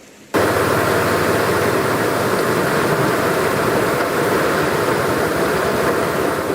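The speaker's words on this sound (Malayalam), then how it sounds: "ശക്തമായ മഴയും കാറ്റും കണ്ണൂർ ജില്ലയിൽ തുടരുകയാണ്" Dense, steady hiss of heavy rain with a whooshing windy roar in Kannur district, Kerala, starting abruptly and continuing loud and unbroken throughout.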